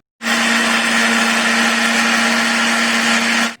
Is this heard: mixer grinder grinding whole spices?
yes